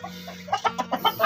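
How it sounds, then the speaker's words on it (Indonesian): Chickens cluck in a quick run of short, rhythmic calls during an egg harvest, close and fairly loud, with no talking. "Ini, guys, ayam."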